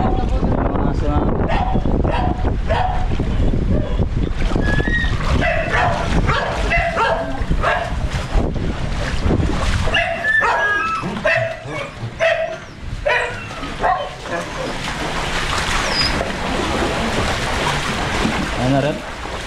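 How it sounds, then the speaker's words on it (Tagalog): Several dogs bark and yip repeatedly, loud and close, mixed with people talking, before the barking thins out and a softer, noisier background takes over. "mga aso"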